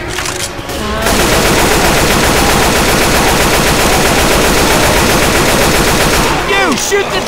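Sustained automatic gunfire from the video game Left 4 Dead 2 rattles loud and dense for about five seconds, bracketed by brief quieter moments at the start and end.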